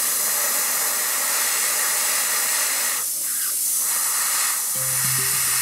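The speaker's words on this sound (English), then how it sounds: "I'll add a few more highlights with airbrush." Airbrush spraying paint to add white highlights on a painting of glowing crystals: a steady, close airy hiss running throughout with brief dips, and a faint low hum entering near the end.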